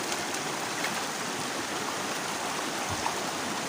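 River water rushing steadily over rocks, a cold clear river with white foaming water, a dense continuous roar close by with no talk.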